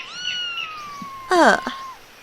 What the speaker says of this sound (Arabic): فاقتربت منها بموائها